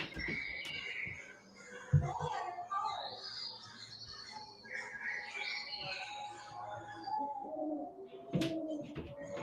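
Pigeons coo softly in an exhibit's bird room, low rounded calls repeating over a murmur of people talking, with brighter chirps from other birds mixed in and a couple of sharp knocks.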